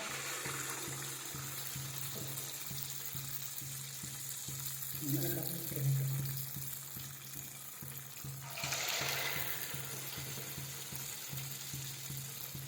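Baduga traditional snack dough frying in hot oil makes a steady, faint, hissing sizzle throughout, with a brief rustle of the dough going in midway, heard close up and without speech.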